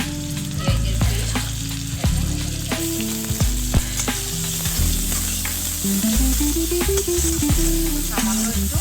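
Onion paste fries in hot oil in a pan for an egg curry, a loud continuous sizzle with periodic clicks and scrapes of stirring, under a steady musical drone.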